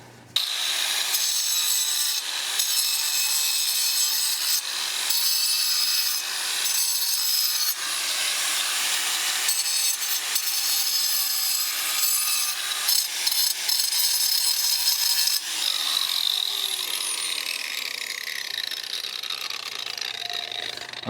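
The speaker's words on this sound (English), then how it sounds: "The grinder makes short work of that." A power grinder cuts through pond liner underlayment during koi pond construction, a loud, continuous high-pitched whine and rasp running steadily for about twenty seconds with brief dips and changes in pitch.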